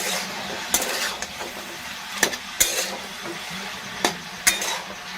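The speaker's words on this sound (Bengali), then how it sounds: "এবার ভালো করে সব কিছু দিয়ে নেওয়ার পরে নাড়াচাড়া করে নেব।" Green chilies and grated ginger are stirred in a pan with a steady sizzle. A utensil scrapes and clinks against the metal several times at irregular moments, fairly close, with no talking.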